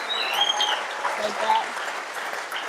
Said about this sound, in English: how about a round of applause for Gil and Brett?